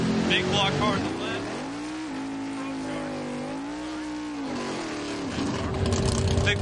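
A big block drag racing car runs down the strip at the 2011 Hot Rod Drag Week in Great Bend, Kansas: a loud, steady engine roar whose pitch steps up and dips through the run, with crowd and track noise underneath.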